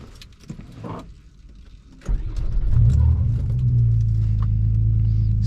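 A blacked-out car engine cranks and catches after faint jingling and handling noises, then settles into a loud, steady close idle rumble.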